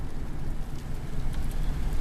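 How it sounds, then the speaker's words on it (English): Rain falls outside on a wet day as a dense, continuous hiss of drops, loud and unbroken throughout. "Look at a beautiful rainy day."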